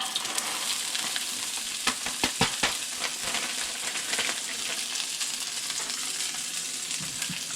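Vegetables hit smoking hot oil and stir-fry with a loud, dense sizzle, a few sharp crackles and stirring clatters early on, then a steady hiss continuing close up without any talk.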